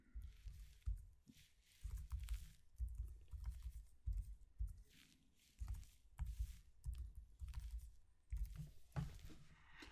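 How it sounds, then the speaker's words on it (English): Typing a password on a computer keyboard while changing a Windows 10 password, heard as close bursts of key taps in irregular clusters with short pauses between them. "So I'm going to go ahead and type something in here."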